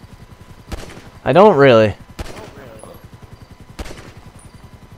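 Pistol gunshots in Grand Theft Auto Online, sharp broadband cracks near 0.7, 2.2 and 3.8 seconds under a steady engine-like drone, with people talking and a brief loud sung or shouted burst in between.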